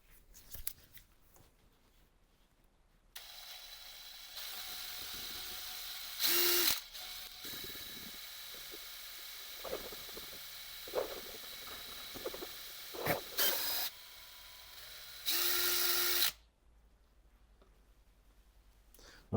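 A power mixer whirs steadily as it stirs black pigment into turning resin, a loud continuous grinding drone lasting over ten seconds with brief louder surges, after a quieter lead-in.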